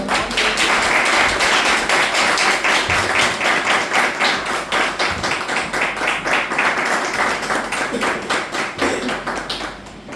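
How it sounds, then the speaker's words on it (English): Applause from an audience at a Toastmasters club meeting, a loud sustained burst of many hands clapping together, dense and steady throughout before easing slightly at the end. "With a big lot of applause, welcome distinguished Toastmaster Shwetang Sharma."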